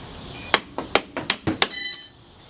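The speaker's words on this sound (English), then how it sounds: "Knock it with the hammer." A hammer knocks a strut bolt on the front suspension of a 2000 Chrysler Sebring, about six sharp metallic strikes in an uneven rhythm, close and loud, followed by a brief ringing metallic tone.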